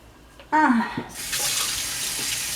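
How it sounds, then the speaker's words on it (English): A kitchen tap bursts on partway through and runs steadily as hands are rinsed under it during egg roll prep. The close, hissing stream is briefly preceded by a short vocal sound. "I'm just going to rinse our hands"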